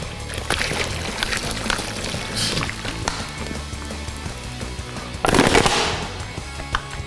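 Ginger ale glugs and fizzes as it's poured into a Christmas punch, a steady close-up pour with a busy background of clinks and knocks, swelling to a louder rushing burst near the end.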